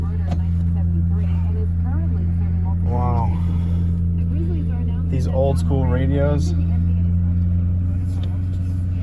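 An SN95 Ford Mustang idles with a steady low exhaust drone that runs the whole time, loud and close, while someone talks over it.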